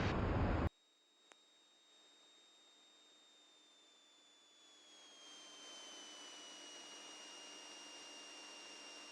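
Light aircraft engine, a complex retractable-gear plane, drones steadily as power is added on final approach, its hum rising slightly in level near the end of the stretch.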